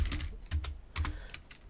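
Computer keyboard typing during a programming lecture, a handful of soft clustered key clicks in irregular bursts over a low hum, close and quiet with no voice.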